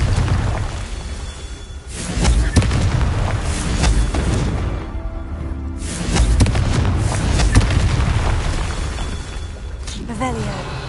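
Confringo blasting spell explosions from Hogwarts Legacy burst as deep booming blasts with whooshing tails, repeating over several seconds beneath game sounds and a talking voice.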